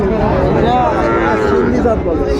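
A Sindhi breed bull moos at a busy cattle market in Dinajpur, its low drawn-out calls rising and falling over the steady murmur of the crowd and nearby voices.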